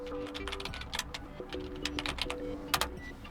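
Quiet, rapid typing on a Dell Latitude 5420 laptop keyboard, irregular bursts of light key clicks with short pauses between words, close and alone with no talking.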